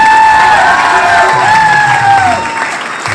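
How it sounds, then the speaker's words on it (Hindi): Loud applause and cheering at a Mi Lifestyle business motivational event, a big crowd clapping under whoops and sustained shouted cheers, very close and full, tapering slightly near the end. "जोरदार तालियां होनी चाहिए।"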